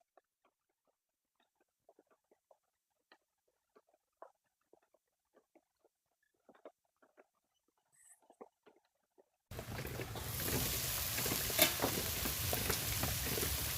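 Sharp sizzling and frying in a pan, at first sparse crackles and pops, then a loud continuous sizzle with stirring scrapes close by.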